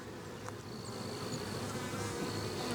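Honeybee drones buzzing inside a spring hive that is being split, a dense steady hum with scattered louder passes of individual bees close by, no voices.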